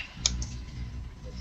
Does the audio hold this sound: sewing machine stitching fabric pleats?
no